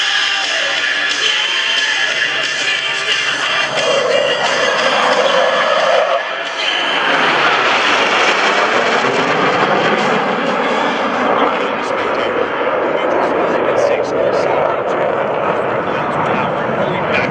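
US Navy Blue Angels jets roaring past in formation at a 2012 Joint Services Open House air show, a loud sustained rumble with a swelling, pitch-shifting pass, while an announcer talks over a public address system.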